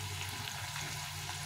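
Thin hand-cut potato chips frying in hot oil make a faint, even crackling hiss that runs continuously for a brief moment, with no voices.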